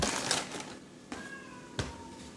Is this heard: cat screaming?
yes